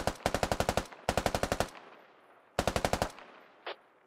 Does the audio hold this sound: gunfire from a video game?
yes